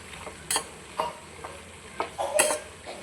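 Broad beans stir-fry (avarekai palya) with fresh coriander leaves being mixed in a pan: about six close spatula scrapes land at roughly half-second intervals over a soft, steady sizzle.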